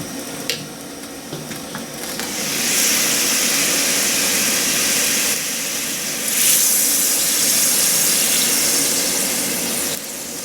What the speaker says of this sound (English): I can hear that sizzle. It means it's gotten low enough on water.